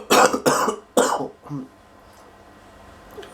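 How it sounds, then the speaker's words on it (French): A person coughs hard three times in quick succession, close and loud, then gives a softer throat-clearing sound before near silence. "Je tousse beaucoup."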